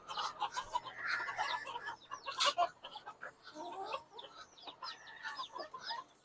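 Chickens cluck and fuss on a farm at feeding time, several birds calling in irregular bursts at close to moderate distance, with no talk over them.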